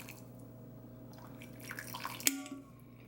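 Warm water poured for a strawberry matcha latte, a quiet trickling stream with faint drips and a brief sharp clink near the end, heard alone in a home kitchen.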